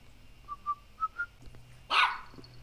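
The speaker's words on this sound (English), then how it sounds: "We got the homie Nismo whistling his little heart out." Pet bird whistling a few short clear notes in a rising series outdoors on a warm day, followed by a brief louder rustle or scrape close by.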